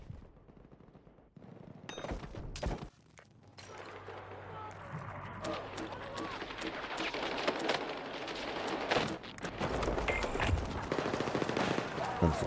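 Gunfire in a video game rattles toward the player in dense, sustained automatic bursts, loud and continuous with heavier impacts mixed in, building through the clip, with some voices faintly present.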